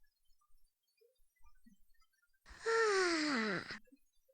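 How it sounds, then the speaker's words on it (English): A single drawn-out yawning groan from a turtle in the Reader Rabbit preschool video game, falling in pitch over about a second, alone against near silence. "I don't know what sort of a sound a turtle would make, but yawning wouldn't be high on my list"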